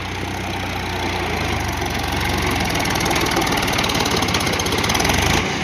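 A tractor engine runs loud and close, a steady rhythmic diesel chug with a knocking pulse that holds for several seconds before cutting off abruptly near the end.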